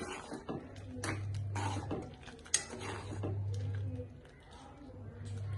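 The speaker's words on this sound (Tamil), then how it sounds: "கிண்டி விட்டுக்கிறேன்." A spoon stirring a curry mixture in a cooking pot, with repeated metallic clinks and scrapes at an uneven rhythm, close by over a low steady hum.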